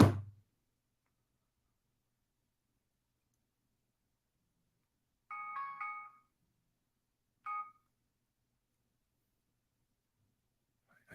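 A telephone rings during a gaming podcast: two short electronic chirping bursts a couple of seconds apart, clear and moderately loud against an otherwise silent background.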